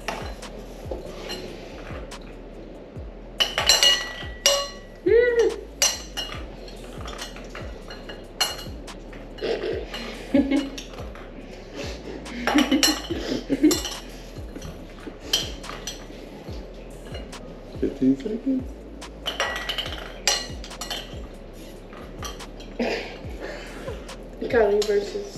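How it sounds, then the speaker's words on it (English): A spoon held in the mouth clinks and taps against bowls as ping pong balls are moved between them, sharp intermittent knocks scattered through excited voices and laughter nearby. "You have 30 seconds to transfer four balls from one bowl to the other using nothing but a spoon held in your mouth"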